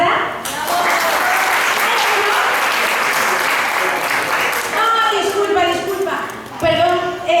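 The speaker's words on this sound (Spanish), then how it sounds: "que reciban su aplauso" An audience applauds a dance group at a school end-of-year festival in Valencia, with sustained, loud, dense clapping filling the space; a voice speaks over it near the end as the clapping thins.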